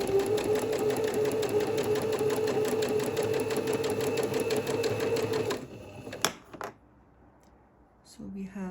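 A sewing machine stitches along a fabric edge with an edging foot, a loud, steady rapid whirring hum for about five and a half seconds that stops abruptly and leaves a few clicks and a quiet room.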